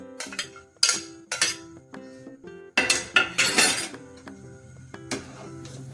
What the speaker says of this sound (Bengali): আমি ফ্রাই প্যানেই মিশ্রণটা বানিয়ে নিচ্ছি